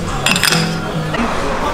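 Glasses clink together in a toast over a meal of barbecue Asian food, a few bright chinks standing out near the start while background talk and table noise carry on underneath.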